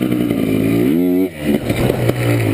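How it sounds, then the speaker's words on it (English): A motorcycle engine revs hard during a wheelie, its pitch climbing and then dropping back to a loud, rough drone, very close to the listener. "So I can go two wheels and then wheelie out."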